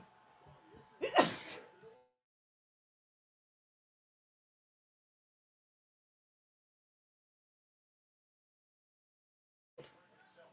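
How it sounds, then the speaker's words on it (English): A single sharp sneeze bursts out near the start, followed by long silence and a faint brief noise at the very end. "Sneezing."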